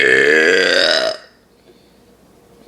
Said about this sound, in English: this Big K Cola be pretty big in the burps